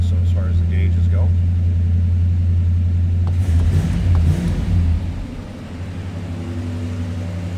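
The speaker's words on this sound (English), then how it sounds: "We're going to let this warm up a little bit so it comes off that high idle." A 1987 Chevrolet Monte Carlo SS engine runs at a steady high idle with a deep, even rumble that eases slightly partway through, while someone talks over it.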